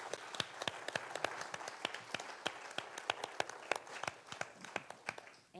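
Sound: audience applause

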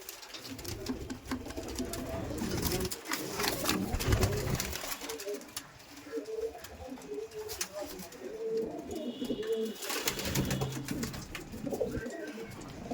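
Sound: Madrasi pigeons cooing

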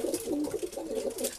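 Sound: red male pigeon cooing

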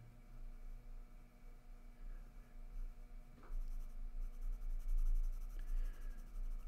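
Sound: pencil drawing a portrait

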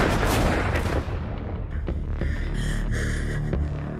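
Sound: gunfire in a film trailer

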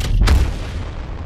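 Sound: gravity cannon launch, from a video game

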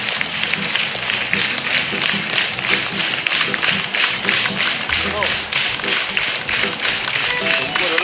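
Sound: audience clapping

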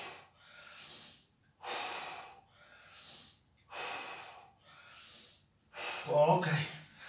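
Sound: heavy breathing during exercise training

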